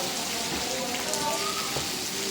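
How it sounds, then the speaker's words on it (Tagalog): Steady rain patters on a surface, a dense, even hiss with scattered drips and faint background sounds. "Ulan."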